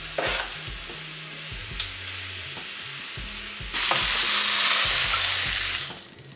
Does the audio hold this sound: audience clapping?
no